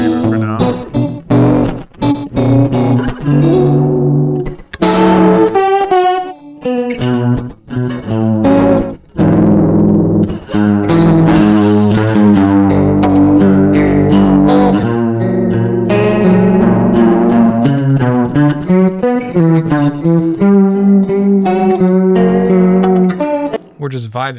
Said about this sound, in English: So we got some slapback going.